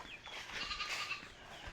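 A faint, drawn-out bleat from a goat at some distance, over a quiet outdoor background.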